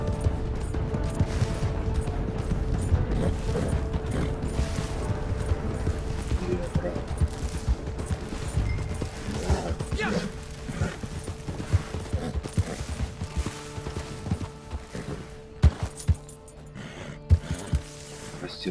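Horse hooves clip-clopping in Red Dead Redemption 2 Online, a steady rhythmic patter under game noise and mechanical clatter, with a voice talking over it.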